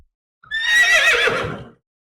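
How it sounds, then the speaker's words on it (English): A frightened mare rearing lets out a loud, close whinny lasting just over a second, rising shrill and quavering before fading, with faint hoof thuds beneath it. "The mare reared, frightened."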